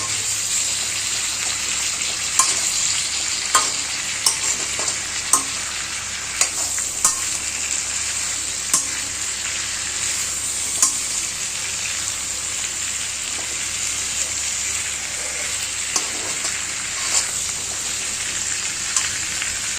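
Nalleru (veldt grape) greens sizzle steadily in a hot pan while a spoon stirs and scrapes now and then, producing sharp clicks over the constant frying hiss.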